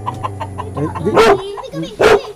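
A pet chicken clucks up close in a short run of rhythmic clucks, followed by two louder squawking calls.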